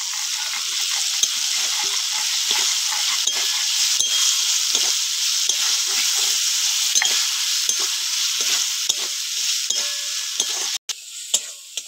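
Cut crab pieces dropped into hot oil with fried spice paste, giving a bright, loud sizzle that holds steady, broken by frequent scraping and clinking of a spatula stirring in the pan, with a brief cut near the end.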